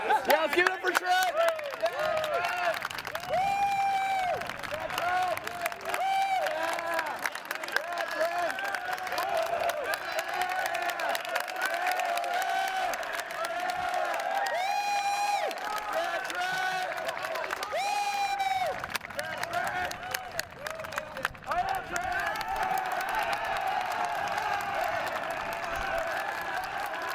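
A crowd at the 2016 US Open men's ultimate frisbee final applauds and cheers for a player, sustained loud clapping and whoops over a long stretch, with a voice talking through much of it.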